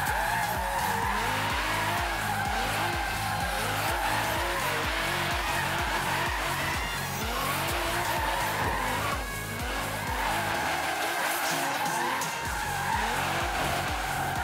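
Nissan GT-R R35 drifting in Forza Horizon 3, with sustained loud tire skidding and squeal over a steady racing engine drone that continues throughout.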